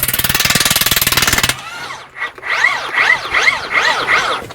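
Battery impact tool working at stubborn bolts: a continuous loud rattling burst for about a second and a half, then a series of rhythmic pulsing whirs and hammering as it struggles with the fasteners.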